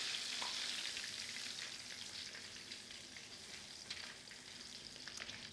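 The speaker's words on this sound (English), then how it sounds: "At this point, it's been deep frying for maybe around 4 minutes" Continuous crackling sizzle of Taiwanese popcorn chicken deep frying in hot oil, a steady bubbling hiss that stays fairly even, with no talking.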